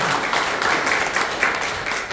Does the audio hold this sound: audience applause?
yes